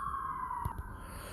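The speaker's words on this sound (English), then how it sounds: "there were sirens in the background" A faint siren drones in the distance, its tone sliding slowly downward, with a couple of soft knocks nearby.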